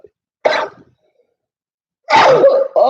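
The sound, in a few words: sneeze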